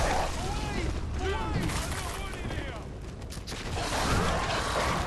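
Gunfire in Bloodborne cracks in a quick cluster of sharp shots with clanking mechanical rattles and creaks, amid busy game sounds and a voice talking.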